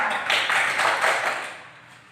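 An audience breaks into a short burst of applause for a hadith reader, a dense wash of clapping that swells quickly and then fades away over about two seconds.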